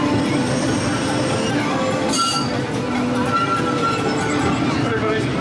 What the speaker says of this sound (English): The train comes to a full stop.